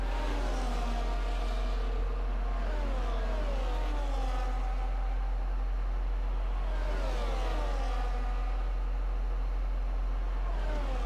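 Race cars driving through the Degner curves at Suzuka in a racing video game, engines whining and rising in pitch through repeated gear changes, a steady close-up roar lasting throughout.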